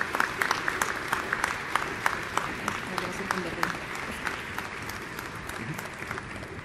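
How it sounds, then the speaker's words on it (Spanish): Steady, dense applause fills the hall at a Teachers' Day celebration at a university, a crowd clapping for the teachers without pause at moderate volume. "Un fuerte aplauso para todos los maestros."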